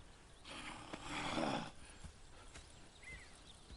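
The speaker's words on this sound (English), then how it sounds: "Go check the horses are ready." Horses in Red Dead Redemption 2 snort and whinny in a swelling burst near the middle, followed by scattered hoof clops and small thuds, moderately close over quiet ambience.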